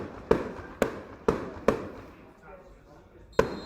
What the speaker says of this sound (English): That's a proper fireworks display in those bungalows over there.